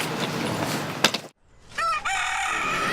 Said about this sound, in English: We wake up by the roosters first thing in the morning